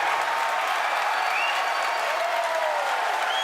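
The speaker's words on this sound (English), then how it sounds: "Successful separation, if you can hear me over the cheering." A large crowd cheers and applauds in a steady, dense roar at the moment the SpaceX Falcon Heavy side boosters separate, with occasional whoops rising above the continuous noise.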